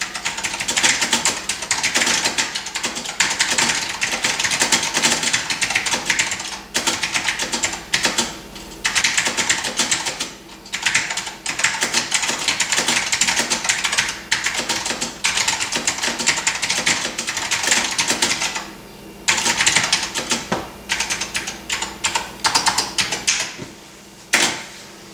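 Rapid clicky typing on a Focus FK-2001 keyboard heard from a distance, a dense stream of sharp key clacks with a few brief pauses, fairly loud and alone.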